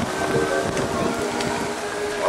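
Steady rain falling in a park, a dense, continuous hiss of drops at even loudness throughout the short stretch, with no voices over it.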